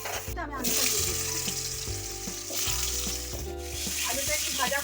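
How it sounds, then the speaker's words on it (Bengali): Potatoes fry alongside cauliflower in a hot pan, a close, continuous crackling sizzle with a few faint utensil taps and no voices. "আলুটা একটু ভাজা হোক"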